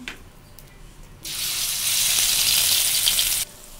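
Food dropped into hot oil, a quiet moment followed by a sudden loud, bright sizzle that holds for about two seconds and then cuts off sharply.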